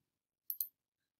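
Two quick, crisp computer mouse clicks in close succession, near and clean, with silence around them.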